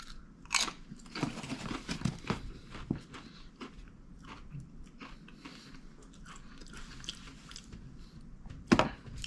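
Crunchy, soft-textured crisps being bitten and chewed close up, with irregular crunching bursts and a sharp loud crunch near the end; no talking.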